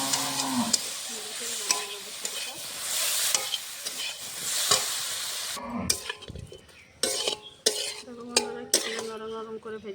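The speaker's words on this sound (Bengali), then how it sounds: "নরম নরম করে ভেজেছি, শাকটা ভাজা হয়ে গেছে" Leafy greens frying with garlic in mustard oil in a pan: a steady, close sizzle for the first half, then sharp clinks and scrapes of stirring with quieter frying underneath.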